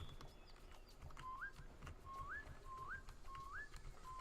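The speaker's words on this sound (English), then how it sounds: "Got a dedicated whistle button." A character whistles via a dedicated whistle button in Beasts of Maravilla Island, four short upward-sliding whistle notes repeated at a steady pace over quiet ambient game background sound.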